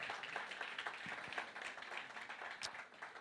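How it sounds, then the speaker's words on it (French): A church congregation applauds its elders, a faint, steady wash of scattered hand claps with a few sharper individual claps standing out, continuing evenly throughout. "Est-ce qu'on peut applaudir nos anciens, s'il vous plaît?"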